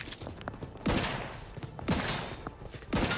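Gunfire bursts in The Outer Worlds 2, three loud rapid volleys about a second apart, each a dense crackle of shots fading before the next, with no voices.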